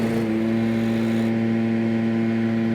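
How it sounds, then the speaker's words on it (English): A small hybrid prototype lawn mower engine kicks on when the blades engage, droning steadily with a strong low hum and constant pitch, running close and fairly loud with no voices. "you'll hear the engine just kicked on."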